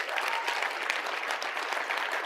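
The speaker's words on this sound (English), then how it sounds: "can we give them applause for this?" A conference audience at a bulk freight industry gathering breaks into steady applause, a dense continuous patter of many hands clapping at an even level from start to finish.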